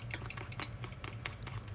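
Natto mixed with raw egg and leek is stirred quickly, giving faint, close sticky clicking and squishing taps in an uneven rhythm.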